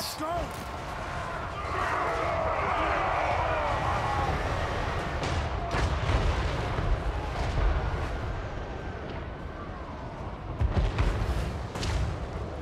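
Cannon artillery fires during a Total War Warhammer 3 battle, with heavy booms and rumbling over a continuous din of battle noise and game music.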